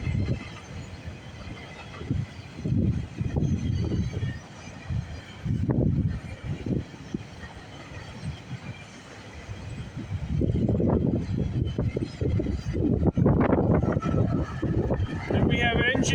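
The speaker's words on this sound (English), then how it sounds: "we got a westbound GO train coming down the line" A westbound GO commuter train passing on the Oakville Subdivision at Burlington West, a rumbling roar that swells and fades in waves, with someone talking over it at times.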